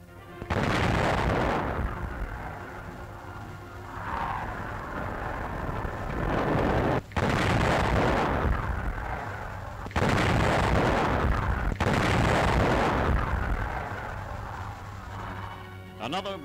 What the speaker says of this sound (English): The Nazis have no match for this thunderous weapon.